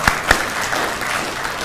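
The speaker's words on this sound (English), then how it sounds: "Another round of applause for Waziri" Brief burst of audience applause at a refugee consultative meeting in a Nairobi hotel, opening with a couple of sharp, distinct claps before settling into a steady, close patter of many hands.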